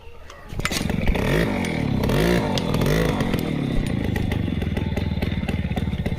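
A motorcycle engine runs close by, a loud steady throb that rises in a couple of revs before settling into an even idle chug. Nobody talks.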